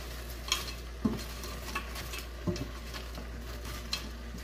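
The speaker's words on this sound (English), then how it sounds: "press my spatula off, and try and break down some of this frozen spinach" A spatula presses and scrapes frozen spinach in a pan for spicy shrimp pasta, with soft sizzling and a few sharp clinks of metal on the pan spaced irregularly over a quiet background.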